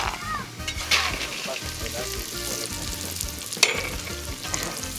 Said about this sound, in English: she put in some oil into the clay pot and then she's just frying the almonds